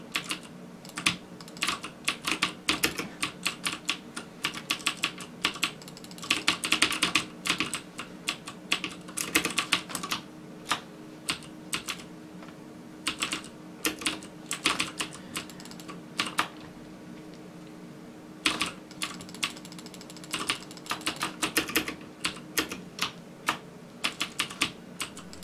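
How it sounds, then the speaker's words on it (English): Cherry MX mechanical key switches on a Das Keyboard Model S clatter in irregular bursts during first-person-shooter gaming. Close, crisp key presses come in rapid clusters separated by short pauses, with no speech. "So here we have an audio test of me playing a game"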